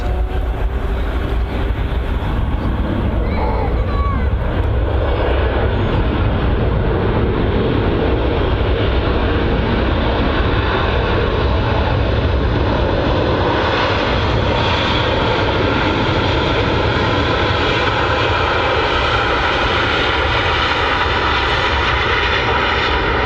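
Airliner landing at Manchester Airport with heavy reverse thrust, a loud continuous roar of jet engines that holds steady and slowly eases as the aircraft brakes on the runway.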